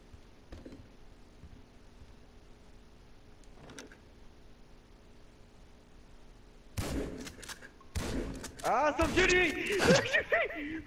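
Gunfire in the video game Grand Theft Auto V bursts in loud, dense clusters in the last few seconds after a quiet stretch with a couple of faint ticks, and players' voices are heard alongside.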